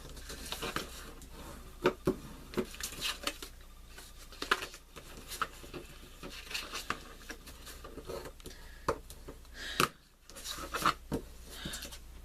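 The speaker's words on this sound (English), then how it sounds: "we're going to go ahead and fold on the score lines and burnish" Scored paper stationery being folded along its score lines and burnished flat: soft rubbing, scraping and crinkling strokes with scattered taps, quiet and close, no talk.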